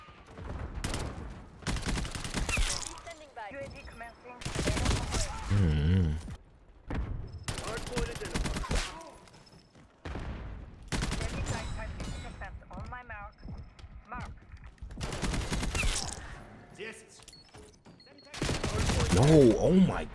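Gunfire in the video game Black Ops 6, repeated bursts of rapid automatic shots separated by short pauses, loud and close, with a voice talking in places.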